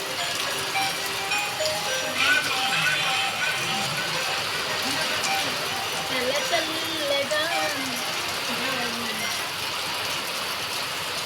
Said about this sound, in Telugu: ఈ వర్షం పడుతుంది ఘోరంగా